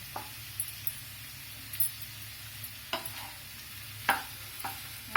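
Low sizzling in a pan as cooked rice for corn pulao is stirred, punctuated by scattered metallic scrapes and clinks of a spatula.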